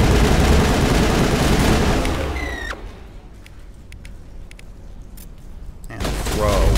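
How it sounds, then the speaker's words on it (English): Rocket launcher fire and explosive combat in Mass Effect 1 on Feros against geth troops: a loud, dense burst of blasts and gunfire, then a brief sharp shot before a quieter lull and a renewed rush of noise. "He's got a rocket launcher."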